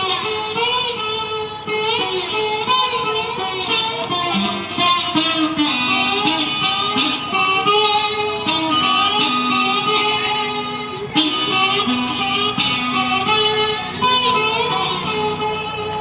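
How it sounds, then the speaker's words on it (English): Bottleneck slide guitar played outdoors in a park, with gliding, sliding pitches, repeated plucked notes and sustained strummed chords over about sixteen seconds, loud and close, no voices. "If you ever hear that sound and you wonder where it came from, it's coming from a guitar with a slide."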